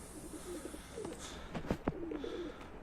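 A pigeon coos softly a few times amid faint outdoor ambience, with a couple of sharp clicks near the middle.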